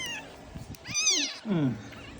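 A kitten meows twice in rising, wavering cries, close by, with soft rustling and faint background voices between the calls.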